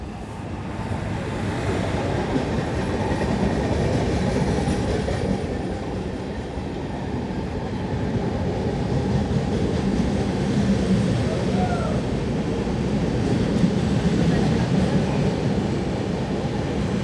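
A special train slowly passes through Nidadavolu Junction station on platform 2, a steady loud rumble of wheels and carriages rolling on for the whole stretch, with faint voices in the background.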